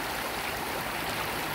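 A river, the El Naranjo, flows steadily, a constant broadband rush of water close by with no voices over it.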